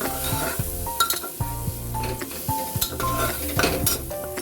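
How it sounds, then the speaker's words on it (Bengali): An egg fries in a pan with a soft sizzle, nearly drowned by repeated scraping and clinking as a spatula stirs and scrambles it. "ডিমটা দেওয়ার পর এবার একটু ভালো করে ভাজা ভাজা করব এটাকে"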